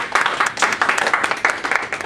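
Small audience clapping to welcome a speaker to a talk on field recording of music, a brief patter of scattered claps with uneven bursts, moderately close and without talk over it.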